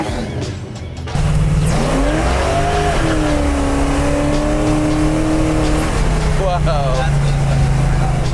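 A 1970 Plymouth Sport Satellite with a V8 engine revs up loudly and close, pitch climbing then holding at a high steady drone before settling back to a lower throaty rumble.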